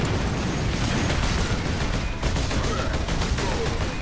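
Rapid, dense gunfire and blasts from the Warhammer 40,000 Space Marine video game roar continuously, loud and close, in a sustained barrage.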